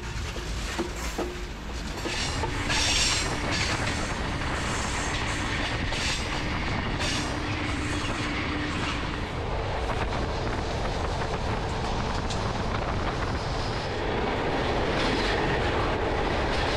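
A passenger train in Montenegro rolls along the tracks after a long delay, a steady loud rumble with faint rail clatter running throughout, no talking.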